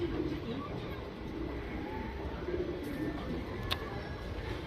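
A male Cheeni breed pigeon coos in low repeated soft phrases, faint against a noisy background hum.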